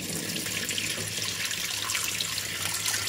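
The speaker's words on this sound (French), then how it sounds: "On va faire la petite vidange. Petit levier, on lève et crac." Water draining out of a Calor appliance after a small lever is lifted, a steady close rushing pour with light splashing, alone without speech.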